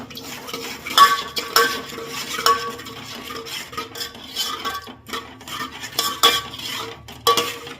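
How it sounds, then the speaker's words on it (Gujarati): Yogurt is stirred into a chutney in a pan with the gas turned off, a spoon scraping and clinking against the metal in repeated uneven strokes, fairly close and with no talk. "હવે આપણે ગેસ બંધ કરી દેવાનું અને દહીં છે આપણને દેવાનું અને આપણે હલાવી નાખવાનું"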